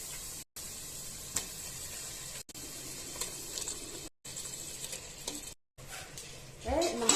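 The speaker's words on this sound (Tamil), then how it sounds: "இப்ப நம்ம கழுவி வச்ச சிக்கனை இதுல சேர்த்துக்குவோம்." Washed chicken pieces go into a pan of masala and are sautéed, giving a soft sizzle with stirring and scraping, broken by brief silent gaps, then louder clattering near the end.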